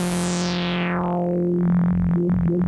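A sustained Serum wavetable synth tone whose bright, buzzy overtones sweep downward and darken over a couple of seconds as the wavetable position changes, then settle into a dull, wobbling timbre.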